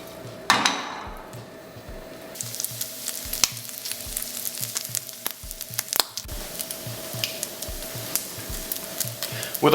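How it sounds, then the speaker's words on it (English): Bacon sizzles and crackles in a frying pan for breakfast sandwiches, a steady close hiss dotted with sharp pops and a few utensil taps, no talk. "With our bacon sizzling in the pan"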